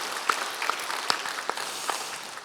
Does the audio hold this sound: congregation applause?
yes